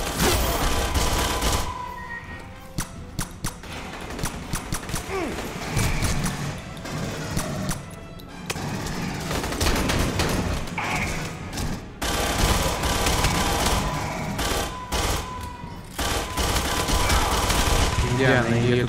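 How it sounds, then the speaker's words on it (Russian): Rapid automatic gunfire rattles through a co-op firefight in Aliens: Colonial Marines, loud and nearly constant with short gaps between bursts, while voices talk over the shooting. "она стреляет по мне"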